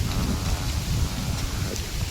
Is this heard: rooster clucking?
no